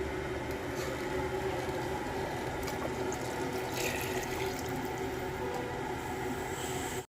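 Coconut milk, a mix of first and second extracts, is poured into a pot of country chicken curry, a steady continuous liquid stream close by for several seconds before stopping abruptly.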